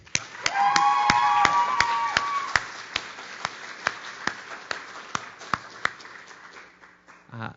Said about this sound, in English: Please join me in welcoming to the stage with a big round of applause, Miss Amanda Siew.